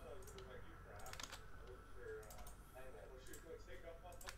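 Computer keyboard typing while names are copied and pasted for a hockey card case break: a run of quick, light key clicks in uneven bursts over a steady low background hum.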